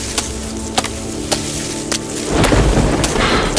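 Thunderstorm in the survival game DayZ on the Namalsk map: a few sharp crackling strikes over steady rain hiss, then a loud rolling rumble of thunder swelling near the end.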